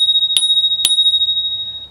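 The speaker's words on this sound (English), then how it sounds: "we have our bell" Two sharp metallic dings from the bell on an iSinwheel S9 Pro electric scooter, struck about half a second apart, each leaving a long bright ringing tone over a low background hum.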